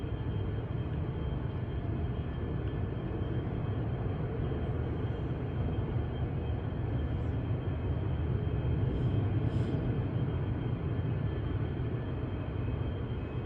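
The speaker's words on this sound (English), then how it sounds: "The other noise sounds like a airplane or jet engine, it kind of echoes through the neighborhood" A distant xAI power plant in Southaven, Mississippi heard from a backyard about half a mile away on a December evening, a constant broadband roar like a jet engine, steady and unbroken throughout.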